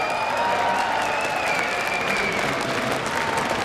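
A large crowd at the IEM Katowice esports event applauds steadily and loudly throughout, a dense wash of clapping with faint cheering mixed in.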